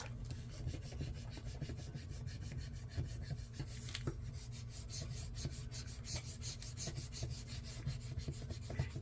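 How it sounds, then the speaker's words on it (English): Planner stickers are burnished down with a tool, a quiet, steady rubbing rasp of short repeated strokes, close and alone. "So let's just burnish all of those down."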